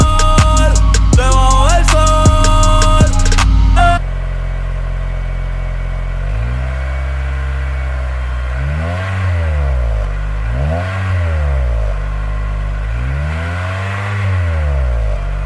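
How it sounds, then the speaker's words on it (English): After a few seconds of a different tonal sound, a 2003 Acura RSX fitted with an HKS exhaust idles with a low drone, then gives several rising and falling rev blips, loud and close. "just going to give it a little rev and see how it's sounding."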